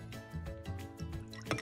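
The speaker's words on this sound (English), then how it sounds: "I'm going to pour the whole thing in." An Old Fashioned cocktail is poured over ice, giving soft close trickling and dripping with faint clinks, quiet and brief, ending in a louder splash.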